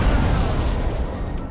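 Hulk's gamma explosion in GTA 5 sounds as a dense, loud roaring blast that stays at full force throughout, a continuous wall of booming low rumble and crackling debris with no pause.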